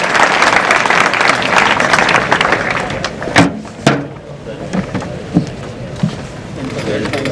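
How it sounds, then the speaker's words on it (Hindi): An audience at a school annual function applauds to welcome guests onto the stage, with dense, steady clapping that fades toward the end, broken by a few sharp knocks and a brief voice. "तालियां बजा करके आप स्वागत करें"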